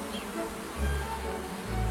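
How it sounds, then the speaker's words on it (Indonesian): Honeybees fan their wings inside the hive, a close, steady low buzzing hum that swells slightly as they move. "Lalu lebah mengepakkan sayapnya dan menciptakan aliran udara di dalam sarang untuk menguapkan dan mengentalkan nektar."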